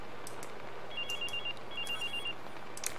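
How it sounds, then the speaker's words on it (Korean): A phone ringing in the video game Watch Dogs: two short bursts of rapid, trilling electronic ring, fairly faint and spaced about a second apart over a steady background hum. "얼른 전화 받아, 동생"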